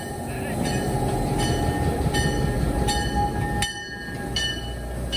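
A heritage train runs on the Tennessee Valley Railroad with a steady rumble of wheels on rails, a thin high squeal and light clicks, all heard from close by.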